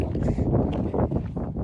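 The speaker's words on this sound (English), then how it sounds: "It's really windy out here." Strong wind outdoors near Sunset Crater buffets the microphone in a loud, rumbling gust with uneven swells that fills the short moment.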